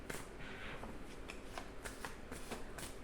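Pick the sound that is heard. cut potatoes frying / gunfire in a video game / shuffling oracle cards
shuffling oracle cards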